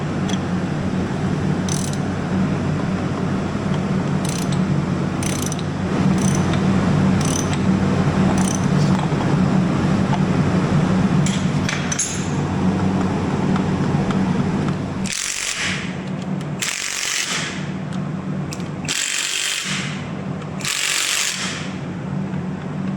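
Toyota axle gears turned by hand while checking backlash on an off-road wrecker build: a steady loud mechanical whirring and grinding drone, with clicking metallic ticks early on and several broader, harsher sweeps near the end, close up.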